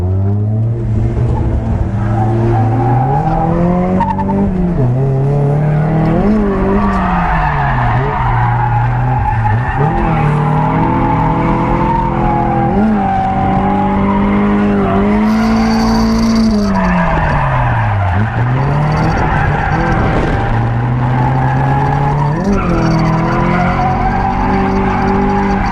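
An NB Mazda Miata drifts with its tires skidding and squealing continuously, the engine revving and rising and falling in pitch as it slides through turns, loud and close throughout.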